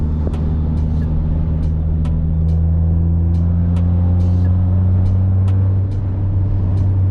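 Inside a moving Hyundai Tiburon with its aftermarket sunroof open, a strong steady low engine drone holds a constant pitch, with extra airy wind rush and scattered light ticks over it.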